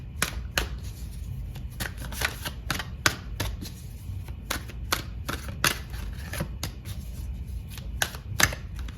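Tarot cards are shuffled in rapid, crisp riffling bursts and slaps, close and fairly quiet, repeating irregularly with no talking.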